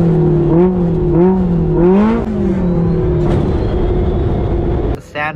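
A sandrail revs hard out on the Glamis dunes, its engine note rising and falling in repeated swells before settling into a steady drone, with a sharp burst of noise at the end.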